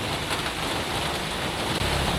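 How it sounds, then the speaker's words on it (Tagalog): Heavy rain pours down on a campsite in a dense, unbroken hiss, loud and constant throughout. "Medyo minalas tayo, lakas ng ulan."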